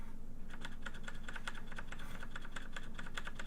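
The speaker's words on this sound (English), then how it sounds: "the green switches give you that very clicky sound that you guys can probably hear right now as I'm pressing that other keyboard button" Clicky green switches on a Razer BlackWidow Chroma V2 gaming keyboard clack in a quick, steady run of sharp keypresses, close and fairly quiet, with no talking.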